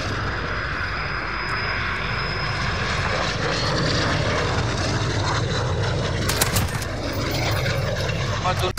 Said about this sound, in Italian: Got a VTOL on station, ready to deploy.